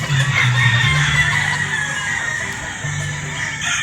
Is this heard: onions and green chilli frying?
no